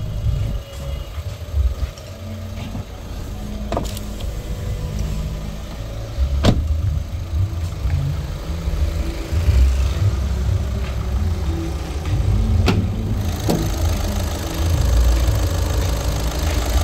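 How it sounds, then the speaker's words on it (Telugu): A 2019 Volkswagen Vento Highline Plus diesel engine with 62,000 km idles steadily with a low knocking rumble, interrupted by a couple of sharp clicks and knocks nearby as the bonnet is opened. "సింగిల్ సెల్ఫ్ ఇంజన్ స్టార్ట్ అయిపోయింది."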